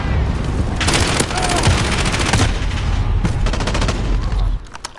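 Loud bursts of rapid automatic gunfire rattle in Call of Duty Modern Warfare, firing in several close, dense volleys before stopping abruptly near the end, with faint voices underneath.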